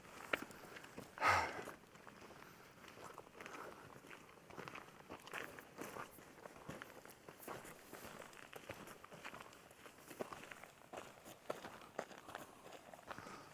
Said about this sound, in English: Footstep.